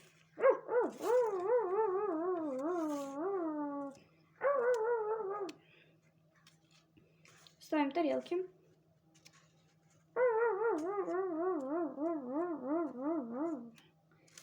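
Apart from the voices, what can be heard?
dogs barking and howling before feeding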